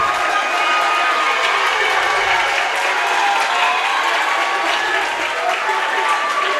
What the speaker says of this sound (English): As the student section applause for Tristan.